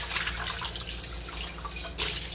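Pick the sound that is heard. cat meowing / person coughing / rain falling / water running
water running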